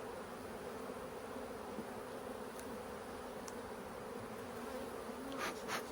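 Honey bees swarm around an opened hive being split, with more bees bearding on the front: a soft, continuous buzzing drone of many insects, steady and close, with no talking.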